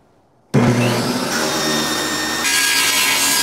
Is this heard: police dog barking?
no